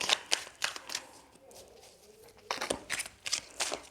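Tarot cards are shuffled by hand in quick bursts of crisp riffling and flicking, close up, with a short quieter pause in the middle before the rapid shuffling resumes.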